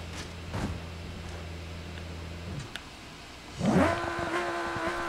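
Race car engine in the BeamNG.Drive driving game, a steady low drone that cuts off, then a loud rev surges in near the end and holds at a high pitch.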